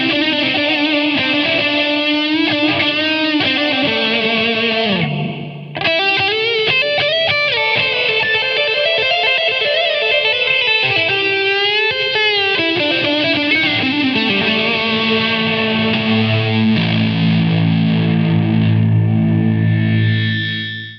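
An electric guitar plays through a Rude Tech Dude Alert overdrive pedal, a sustained, distorted lead with bending notes and held chords, thick with overdrive and echo, continuous and loud with no talking.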